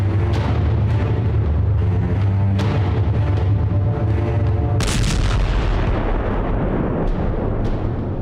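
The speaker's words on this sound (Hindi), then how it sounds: "जोरदार धमाके से धरती दहल उठी।" A deep, rolling nuclear test explosion in China with a heavy low-end rumble, followed by a sharp blast partway through and a long thundering roar that fades slowly.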